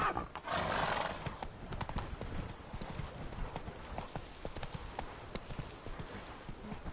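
Horse hooves clip-clop steadily at a trot in The Witcher video game, with a close whinny near the start and a faint voice in the background.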